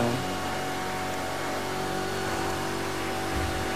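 Corvette C7 ZR1 in The Crew 2 video game cruising fast on a highway, a steady loud engine drone with constant tone and road noise, no voices.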